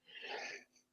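One short, breathy sneeze during a podcast conversation, close but soft and muffled, lasting well under a second with no talk over it.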